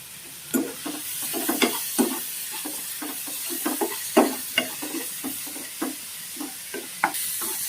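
Chopped onions and tomatoes sauté in hot oil for a vendakkai pachadi, with a steady sizzle under repeated scraping and stirring strokes of a spoon against the pan, fairly close and moderate in level.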